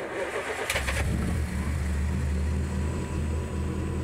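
A 1928 Bentley Speed 8 engine cranks and fires up, then rumbles with a deep, throaty revving that rises and falls steadily up close.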